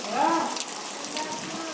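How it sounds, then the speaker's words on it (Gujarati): Heavy rain falling steadily in a village, a broad continuous hiss that stays even throughout, with a faint voice briefly audible near the start. "કેટલો બધો વરસાદ પડે છે."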